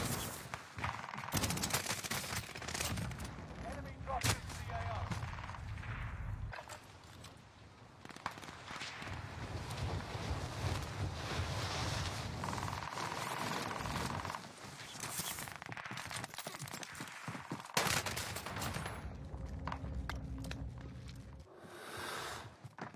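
Video game gunfire: dense bursts of rapid shots and fusillades run through a long stretch, loud and close, with brief pauses and mixed clattering in between.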